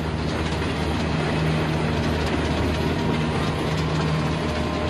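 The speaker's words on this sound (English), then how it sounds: "got a lone train coming through" A single train rolls through a valley, a loud, steady rumble of wheels and rail noise that holds throughout with no break.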